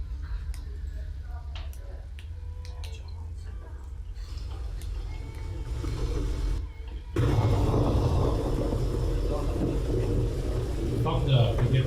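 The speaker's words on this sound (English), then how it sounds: "Thunder begins to take off in the distance." A distant thunder sound effect in a Curse of Strahd tabletop roleplaying podcast swells in after a brief pause as a broad, steady low rumble, with voices faintly underneath.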